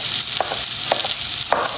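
Onion and red pepper fry in a pan under a steady sizzle, with three soft stirring scrapes spaced evenly through it.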